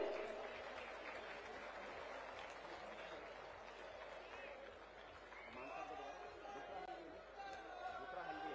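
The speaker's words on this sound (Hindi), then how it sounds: "जोरदार तालियां आपकी तरफ से आनी चाहिए।" A large rally crowd applauds steadily at an outdoor political event, a dense wash of clapping with murmured chatter underneath that holds at a fairly distant level for several seconds.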